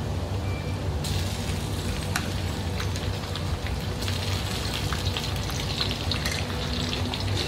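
Shallots frying in a pan, a steady dense sizzle and crackle throughout, close and fairly loud, with no talk over it.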